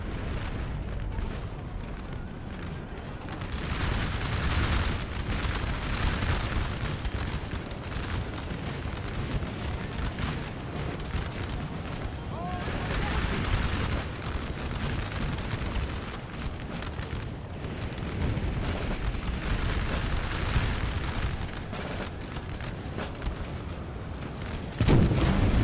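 Rolling artillery fire and booming explosions from a large Napoleonic battle in Napoleon Total War, a dense continuous rumble of distant blasts with occasional louder thumps, no voices.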